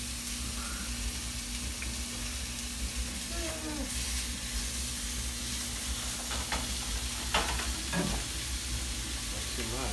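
Steak searing in a pan in a tiny kitchen, a steady close sizzle with occasional scrapes and clinks of stirring, while people talk intermittently nearby.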